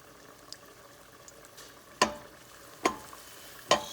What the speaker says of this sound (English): let it sizzle just a little bit just to get the flavor from the garlic in there.